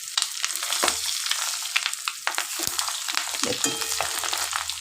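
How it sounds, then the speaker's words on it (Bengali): Fish roe fritters sizzle and crackle steadily in hot oil in a pan, with scattered spatula scrapes and stirring clicks throughout; a voice speaks briefly. "দেখেছেন কি সুন্দর ফ্রাই হচ্ছে"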